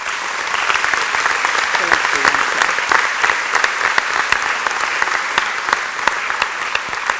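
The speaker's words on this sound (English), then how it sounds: "How about another round of applause for Dr. White?" A large audience applauds at a 2018 community college graduation commencement, a dense, steady roar of clapping that stays loud throughout.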